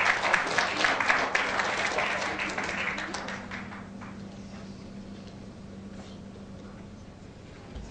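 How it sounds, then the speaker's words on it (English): An audience at the Global Goans Convention in Kuwait claps, a dense burst of applause that starts strong and fades away over several seconds, leaving a quiet hall hum. "A big round of applause, please."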